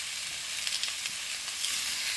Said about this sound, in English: that sizzle is a good sign